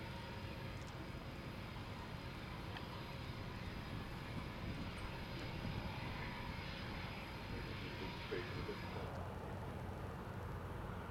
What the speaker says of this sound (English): Moving out onto the runway. This is the Boeing 787 Dreamliner.